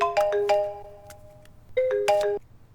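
A phone ringtone plays a bright electronic melody of sustained tones in two phrases separated by a short pause, loud and close, with no voices over it.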